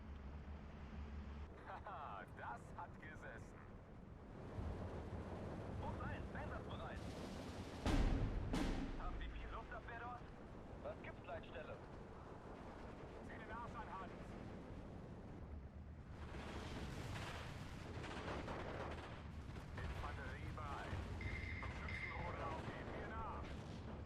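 Distant artillery fire and shell impacts during a Steel Division 2 battle, low rumbling booms with one heavier blast midway, fairly faint over a continuous battlefield din while a player talks.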